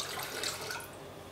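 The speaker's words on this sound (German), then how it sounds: "Gebt den Traubensaft in einen Topf." Grape juice is poured into a cooking pot, a brief continuous splashing trickle of liquid heard close up.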